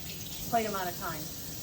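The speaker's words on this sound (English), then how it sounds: "We let our water run as we're washing the dishes" Tap water running into a kitchen sink during dishwashing, a steady hiss throughout with a faint clink of dishes near the start.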